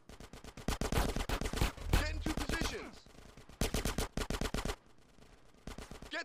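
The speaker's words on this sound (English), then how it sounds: "Some suppressing fire in there." Bursts of machine-gun suppressing fire in a video game, rapid rattling volleys that come in dense clusters, break off, and start again, loud and close throughout.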